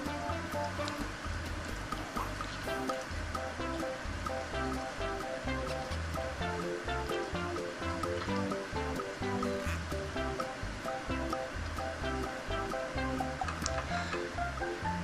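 Pork pieces deep frying in hot oil, a dense, steady sizzle and bubbling that runs unbroken and fairly loud throughout, with no talk over it.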